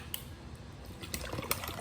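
Water poured into a cup, a quiet trickling and filling sound close by with a few soft clinks, building slightly toward the end.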